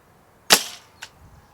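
A White Strike Nerf Caliburn sniper blaster fires once with a sharp, loud crack and a short airy tail, followed by a fainter distant thump about half a second later, outdoors with no talking.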